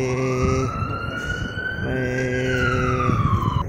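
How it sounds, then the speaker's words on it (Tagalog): Several ambulances wail together in Piazza Duomo during a lockdown, their overlapping two-tone sirens loud and steady over the urban background. "ito naman ang mga ambulansya"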